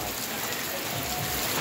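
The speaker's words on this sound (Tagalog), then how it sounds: "malakas yung ulan" Heavy rain hisses steadily and densely in a short, continuous wash with no talking.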